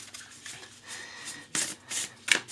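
An oracle card deck, new out of the box, is shuffled by hand close up, with soft rubbing riffles and a few sharper card-slapping bursts toward the end.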